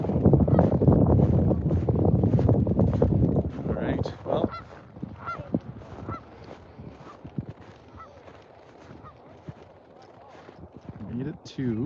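Canada geese honking repeatedly at a river's edge in early spring, loud and close at first and then scattered, over gusting wind noise and footsteps.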